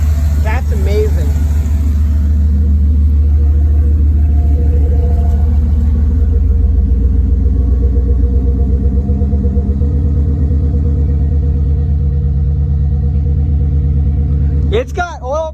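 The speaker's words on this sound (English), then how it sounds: "Definitely does have that funky idle still though" A car that has been sitting idles roughly, a loud close rumble with an uneven, lumpy pulse holding steady throughout, ending with a short higher squeal.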